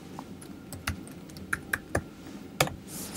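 Keys tapped on a computer keyboard, a sparse run of separate clicks at an uneven pace, close and fairly quiet with no talk.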